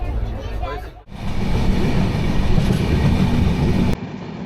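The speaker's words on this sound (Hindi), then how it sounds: "ट्रेन राइट टाइम पर खुल चुकी है।" Darjeeling toy train on the NJP to Darjeeling line running on its rails, a steady, loud rumble and rattle heard from on board, with a brief dip partway through.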